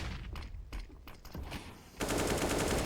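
AK rifle fire in a Counter-Strike match rings out as a series of sharp, separate shots, then a louder, denser barrage of gunfire takes over and keeps going to the end.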